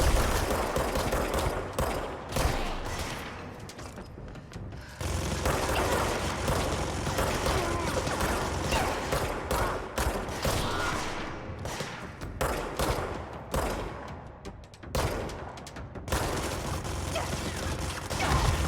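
Rapid gunfire from a Gatling gun enemy in a video game, dense sustained bursts with short breaks, loud and close, under and between a player's voice reacting.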